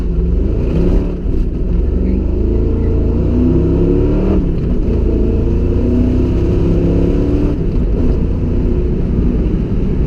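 A loud, deep Ford Mustang Foxbody V8 engine roars continuously, rising and falling as it revs through the gears, heard close up from inside the car.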